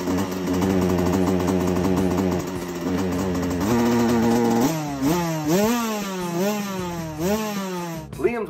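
Carburetor-fault 2014 KTM 65 dirt bike engine running nearby, buzzing unevenly and then revving up and down in repeated surges with a wavering, intermittent pitch.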